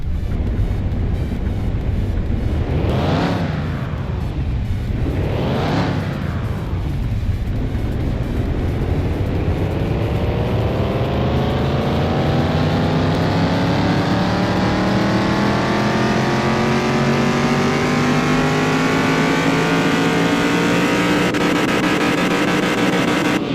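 A car engine in Car Mechanic Simulator 2021 revs twice sharply on a dyno, then climbs in one long, loud, steadily rising pull for the horsepower test.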